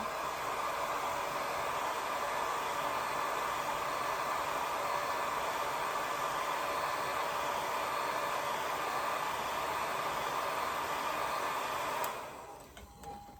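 A hair dryer blows steadily on a watercolor painting of a pink rose, a loud, even broadband whoosh that runs for about twelve seconds before switching off, leaving a brief quiet tail.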